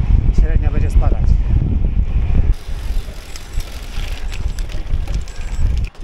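Strong wind rushes over the microphone while cycling on a long road ride, a steady loud buffeting roar that dominates throughout, with a voice briefly at the start.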